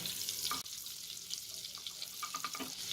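Butter melting into a pan of fried paneer gives a faint, steady sizzle with small crackles and a brief clatter near the start.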